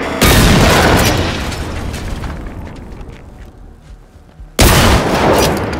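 An explosive robot in Generation Zero blows up with a loud, close blast whose rumble slowly fades over several seconds, followed by a second sudden boom near the end.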